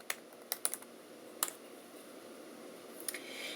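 Short bursts of typing on a computer keyboard, a few quiet, close key clicks scattered over a soft background hiss.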